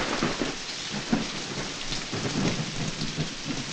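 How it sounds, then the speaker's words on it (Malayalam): Heavy rain pours steadily at night, hissing on surfaces, with low rumbles of thunder rolling underneath throughout. "ഈ മഴയത്തും മഞ്ഞത്തും രാത്രിയിൽ കുട്ടൻ എവിടെ പോയി കിടക്കും എന്റെ ദൈവമേ?"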